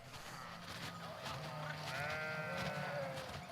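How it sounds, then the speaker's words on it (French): Several sheep bleat in a spring pasture where a flock of ewes grazes, wavering calls overlapping softly at a moderate distance over a faint outdoor background. "Dès le printemps, ces brebis profitent des pâturages."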